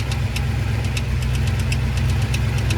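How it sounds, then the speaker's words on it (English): A Chevrolet K5 Blazer engine runs at a steady idle, with a rapid, regular metallic tapping from a part striking the flywheel and starter gear over a low engine hum, close and loud. "Yeah, it's tapping that starter gear"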